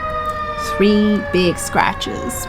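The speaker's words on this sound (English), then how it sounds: "now that the sirens are gone" Emergency vehicle sirens sound outside with rising and falling wails and steady tones, while someone talks briefly over them indoors.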